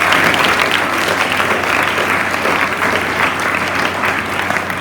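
Sustained, dense applause from a large audience for students at a school Teachers' Day celebration, loud and even throughout with no break.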